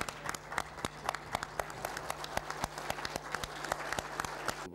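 Deputies at a parliament plenary session clap together in a brisk, uneven round of sharp applause that carries on steadily and close in a large chamber.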